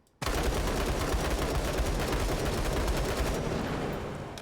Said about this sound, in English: So here we have just a standard assault rifle, right? If I unload on this target, I'm going to try to hit it. I need to be full auto.